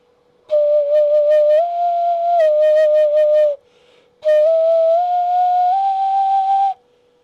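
A failed 3D-printed ocarina, a Māori-style instrument, is blown in two long, breathy, whistle-like notes whose pitch steps up during each note. The notes are loud and close, with a short pause between them.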